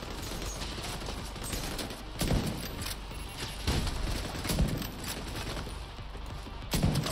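Rapid gunfire in The Division 2, a co-op shooter played in VR, crackles in dense bursts with several sharper shots standing out, loud and continuous throughout.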